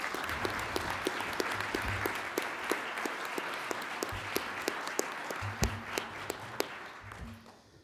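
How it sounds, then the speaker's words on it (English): Sustained audience applause fills a hall at a university innovators hall of fame induction ceremony, a dense wash of many clapping hands with sharper individual claps standing out, steady for several seconds before tapering slightly at the end. "So ladies and gentlemen, let's have a round of applause for Dr. Kelly Drew."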